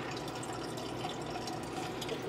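Water trickling and filling in a home fish tank, a steady continuous running-water flow heard close and alone for the whole stretch.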